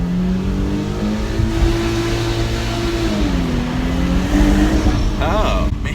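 Infiniti Q60 Red Sport 400 accelerating through a tunnel with paddle shifts, its engine droning loud and steady from inside the cabin, rising in pitch, dipping at a gearshift and climbing again, with reverberant road rumble and no talk.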